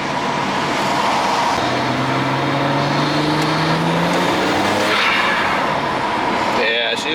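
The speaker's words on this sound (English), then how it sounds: "she's blowing off" A BMW 335xi engine with MHD Stage 1 tune, upgraded intercooler and catless downpipe drones and revs with road noise, ending in a sharp hissing whoosh of the turbo blow-off valve venting; a voice talks under it.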